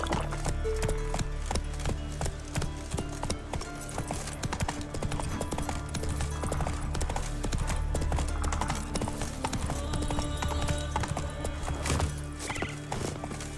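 Horse hooves in The Witcher 3 clip-clop in a fast, continuous galloping rhythm, loud and close, over a dense layer of game music and ambience that runs the whole way through.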